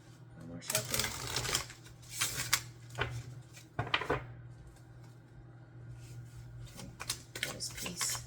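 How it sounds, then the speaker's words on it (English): Tarot cards are shuffled in several quick riffling bursts, close and crisp, with pauses between them over a low background hum. "One more shuffle."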